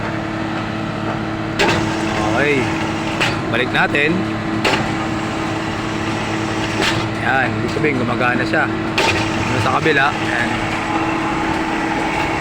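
A steady mechanical hum with a constant tonal drone runs throughout from an overhead electric motor turning a remote radial system, while a person talks over it with occasional knocks.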